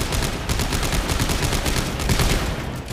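Rapid gunfire in the sci-fi horror video game Dead Space 3 during co-op play, a dense, loud burst of repeated shots firing almost continuously.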